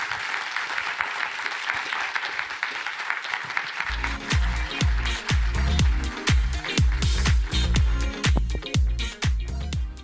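Crowd applause for a performer at a livestreamed conference, clapping at first, then joined by strong rhythmic thumping music with a heavy beat as the ovation continues.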